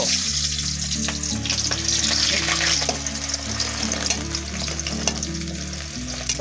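Onions frying in mustard oil with bay leaf and whole spices for an Odia chicken kosa, a steady close sizzle with occasional stirring scrapes, no talk.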